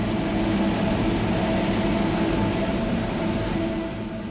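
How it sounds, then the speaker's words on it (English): Expo 1971 monorail train running on its circuit, a loud, steady rumbling roar with a continuous whine that eases slightly toward the end; no voices. "A free monorail skirts the perimeter of the main area."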